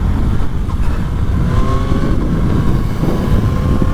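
A 2024 Yamaha MT-09 motorcycle rides along a road, its engine a loud continuous rumble mixed with heavy wind rush, and a faint tone rising and falling as it pulls.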